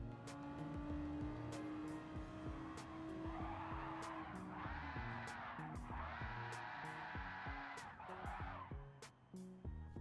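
Tyres squeal repeatedly as a race car skids and slides out in the Gran Turismo 7 video game, a loud engine drone running underneath with several long screeching bursts across the stretch.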